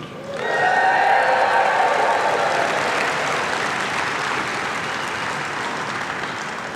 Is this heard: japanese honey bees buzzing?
no